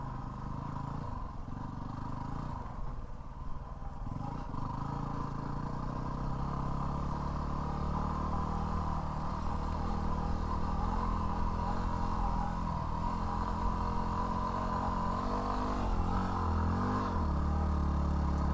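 A Yamaha WR250R dual-sport motorcycle climbs a slope in an abandoned quarry in second gear. The engine holds a steady, close, mid-pitched drone that rises and strains toward the end, with faint clatter underneath.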